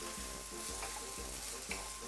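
Salt fish frying in oil in a frying pan over medium heat, a steady close sizzle with soft stirring scrapes at regular intervals.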